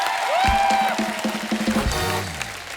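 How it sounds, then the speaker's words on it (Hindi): A studio audience at a comedy talk show claps for actress Huma Qureshi, a brief burst of applause under and between musical tones and a voice, fading out after a couple of seconds. "हुमा के लिए जोरदार तालियां"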